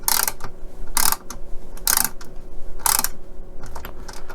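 A screwdriver with a screw bit head drives a screw into a Hachette Titanic model kit, giving close, loud bursts of ratcheting clicks in repeated short turns, with no talk.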